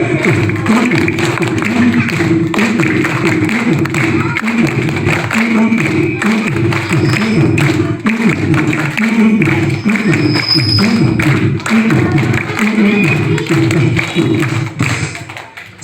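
A group of children claps along in a steady, even rhythm during a storytelling session, the beats loud and close, continuing for about fifteen seconds with faint voices mixed in.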